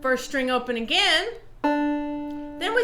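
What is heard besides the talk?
None of the usual background noises is heard.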